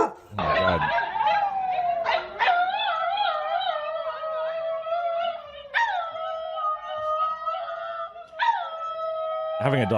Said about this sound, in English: This dog is testing sparkling water.